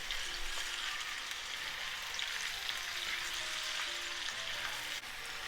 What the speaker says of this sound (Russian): Все перемешаю.